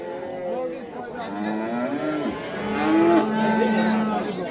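Young calves moo repeatedly at a busy livestock bazaar in Shahrixon, several drawn-out calls close by over a background of crowd murmur.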